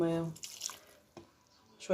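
Hot water is poured into a cocoa cake batter in a home kitchen, making a short, close splashy trickle of about half a second, followed by a couple of faint clinks; someone speaks briefly before and after the pour.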